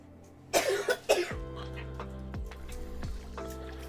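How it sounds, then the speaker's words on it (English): An asthmatic person coughing, two or three harsh close coughs in quick succession, followed by quieter clicks and faint background sounds. "because you're coughing"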